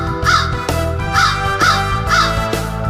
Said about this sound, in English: Big black crow sitting on a tree. What are you squawking about?